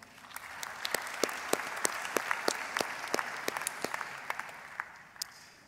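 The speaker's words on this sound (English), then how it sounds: "May we give him a round of applause." Sustained round of applause from a graduation ceremony audience at a Faculty of Theology event, steady dense clapping with a few sharper claps standing out, running throughout at moderate distance.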